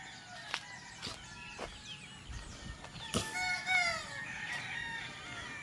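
Chickens in a pen give repeated clucks and calls, with a rooster crowing partway through, fairly close and without voices.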